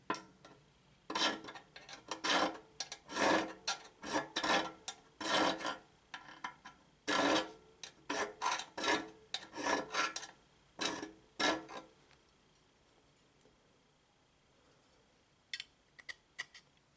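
Hand file rasping along the edge of a gearbox shell to radius it, a series of distinct strokes in an even rhythm, close and fairly quiet, trailing off to a few sparse strokes at the end.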